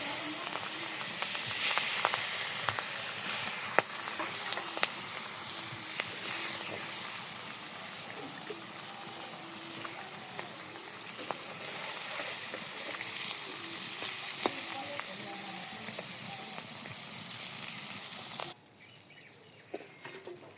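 Fish fries in hot oil in a home kitchen, a dense, steady crackling hiss running loud and close for most of the time before cutting off suddenly near the end.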